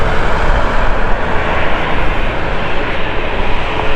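A British Airways Airbus A321 jet at Manchester Airport, a loud, steady broadband engine roar that holds evenly close by for the whole stretch with no talk.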